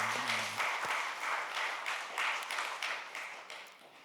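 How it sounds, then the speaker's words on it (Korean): Applause from a Sunday church congregation welcoming someone back, moderately quiet clapping in slightly pulsing waves that gradually fades, after a brief voice at the start. "우리 큰 박수로 환영하겠습니다"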